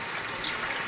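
Water poured into rice for cooking, a soft steady trickle and splash heard alone at low volume.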